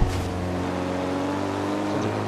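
An armored Jeep's engine in the racing game Forza Horizon 2 drones at a steady pitch, a loud continuous hum with no talk over it.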